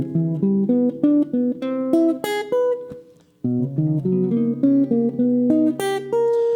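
A clean electric jazz guitar plays a quick melodic phrase of single notes and chords over a jazz standard, with a brief pause midway before the line continues.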